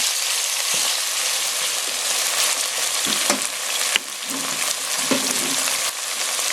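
Chicken fries in a pan for a Japanese-style cream stew, giving a steady, close crackling sizzle with a few sharper pops and stirring clatters throughout, with no talking.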